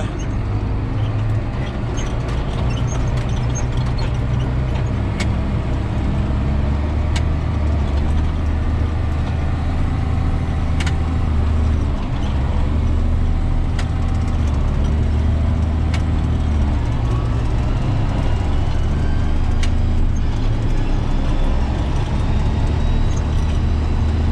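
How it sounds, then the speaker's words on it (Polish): A John Deere 7810 tractor with a PowerShift gearbox runs with a steady, loud engine drone and low rumble throughout, alone with no talk, with a few faint clicks and rattles over the continuous hum. "ten ciągnik ma bardzo, bardzo fajny silnik, zdrowy ten silnik"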